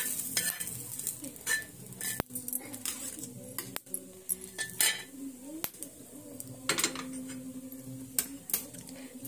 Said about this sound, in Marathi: आता हे गरम गरमच मी या बॅटरमध्ये घालून देते